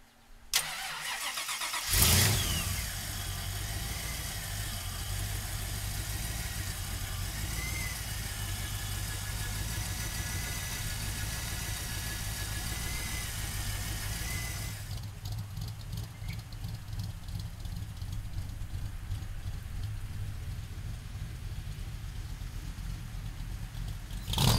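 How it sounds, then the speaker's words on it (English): Supercharged 5-liter engine of a 1965 Shelby Cobra starting with a sharp burst, then idling steadily and close by with a deep, even rumble for the rest of the clip, no talk over it. "that 5-liter supercharged motor under the hood"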